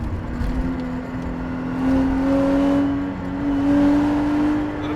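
A Lexus IS300 SportCross engine drones and rises in pitch as it revs toward the rev limiter, a steady close in-car hum that swells twice, with no talking.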